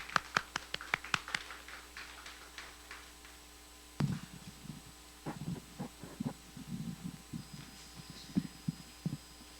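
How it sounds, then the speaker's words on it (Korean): A church congregation at a Sunday worship service claps to welcome a brother coming up to give his testimony; a burst of sharp, close claps comes first, then thins into scattered, softer claps and low room sounds. "박수로 맞이하도록 하겠습니다"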